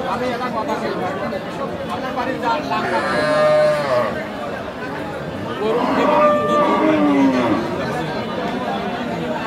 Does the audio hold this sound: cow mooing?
yes